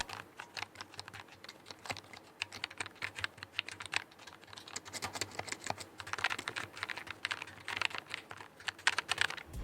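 Typing on a Logitech G915 TKL low-profile mechanical keyboard with linear switches: a steady, fast run of soft, close keystroke clicks and clacks, quieter than typical mechanical switches, with slightly denser bursts toward the end.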